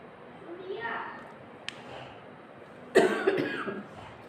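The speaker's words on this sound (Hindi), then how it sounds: "मेरी खांसी हो रही है" A couple of short, raspy coughs break out near the end after soft rustling, close and moderately loud.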